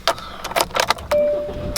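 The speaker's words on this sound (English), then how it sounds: "Just gonna get in my car real quick." Getting into a car: a few short door and body clunks and rustles, then a steady tone as the car powers on, with one more thump at the end, close and fairly loud.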